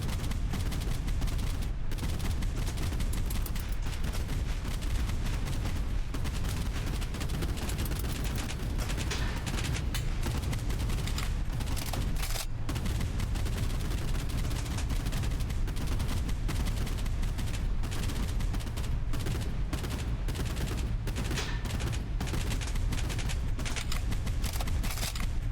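Gunfire rattles from a machine gun nest in the video game Boat Crew, sharp bursts and shots cracking throughout over a constant loud battle din, with no voices.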